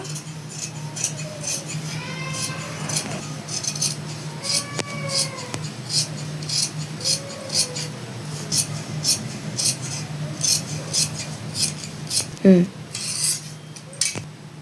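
Scissors snip through cloth while an umbrella frock is cut out, a steady run of crisp, close metallic cuts with short pauses and occasional fabric rustles.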